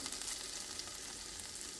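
Creamy pasta with milk simmers in a pan, giving a steady, close bubbling sizzle that runs evenly throughout with no voices.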